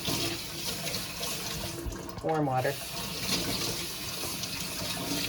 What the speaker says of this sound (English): I start with a sponge, some warm water.